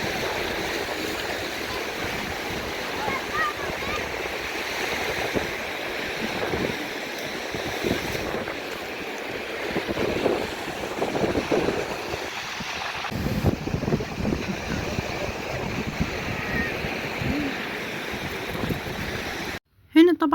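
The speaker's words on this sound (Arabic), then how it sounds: "هسيبكم بقى تسمعوا صوت البحر كده وتقولوا لي ايه رأيكم" Continuous rush of Mediterranean Sea waves washing onto the shore at Port Said, Egypt, with wind buffeting the microphone, steady throughout and ending with a short handling bump.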